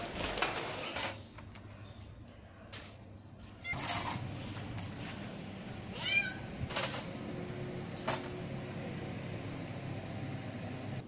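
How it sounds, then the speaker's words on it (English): A cat meows a few times over a steady background hum, with scattered clicks and thumps nearby. "that's the cat."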